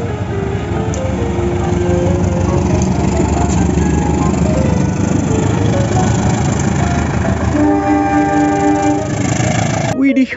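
A CC201 diesel locomotive rumbles past close by and loudly, its engine drone filling the scene, with a horn-like tone near the end and a sharp clatter at the close.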